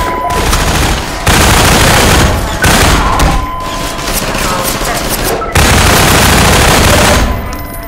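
Bursts of SMG fire from the Half-Life 2 video game, loud and close, coming in several rapid automatic volleys with brief gaps between them and no talk over it.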